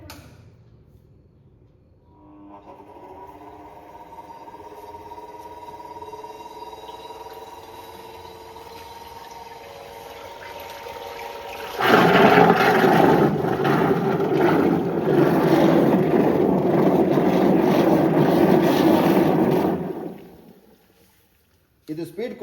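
Electric stirrer mixing motor with speed controller on a tank of about 75 to 85 litres, starting up with a loud steady whirring churn that runs for several seconds over earlier hum before cutting off.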